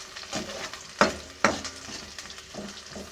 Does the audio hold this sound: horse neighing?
no